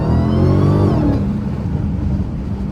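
A Dodge Hellcat on Nitto tires accelerates hard, its engine rising in a loud, close roar that peaks early and then settles into a rough, sustained drone with no talk.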